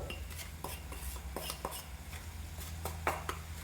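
Roasted semolina is stirred into cooked vegetables in a pot, a spoon scraping and clinking against the metal in steady repeated strokes, close and clear with no talking.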